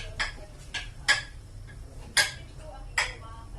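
Pork and broccoli being stirred in a pan, with a spoon clinking sharply against the pan about five times at an uneven pace over low background hum, close and fairly clear.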